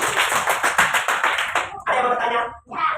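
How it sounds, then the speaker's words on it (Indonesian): A classroom applauds a group of students with quick, even claps for about a second and a half. Voices then take over. "tepuk tangan dulu untuk kelompok 2"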